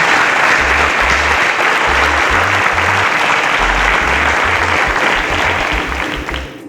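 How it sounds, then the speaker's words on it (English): Full audience applause fills the room in a continuous, loud wash, with a low rhythmic thumping beneath it, fading slightly near the end. "A round of applause for Sir Isaac Newton."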